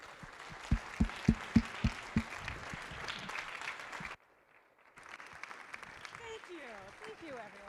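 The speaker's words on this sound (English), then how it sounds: "give a big round of applause to True Flood Risk's founder and CEO, Shelley Closa." A crowd breaks into warm applause for the founder and CEO of True Flood Risk at a company event, sustained clapping with some loud close claps at first, then a brief lull before voices and chatter resume.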